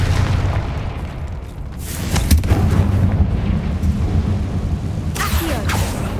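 Confringo blasting spell explosions in the Hogwarts Legacy video game, several deep booming bursts with a sharp crack near the middle and another blast near the end over a rumbling background.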